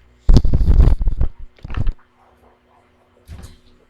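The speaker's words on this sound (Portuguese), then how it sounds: "Vou abrir a porta." A few close bursts of bumping and sliding, like a door being handled and pushed open, followed by a quieter scrape after a pause.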